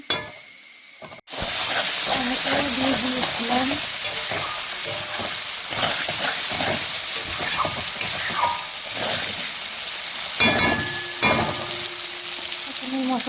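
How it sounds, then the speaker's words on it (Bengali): Spice paste frying and being stirred in a pan for a fish and potato curry, a loud continuous sizzle with scraping stirs, opening after a brief near-silent pause, close and without talk. "মশলাটাকে নেড়ে চেড়ে নিলাম।"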